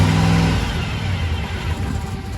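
A 1940 Ford COE custom rollback truck engine revving up close, a loud rough roar that settles into a steady, slightly uneven drone over a couple of seconds.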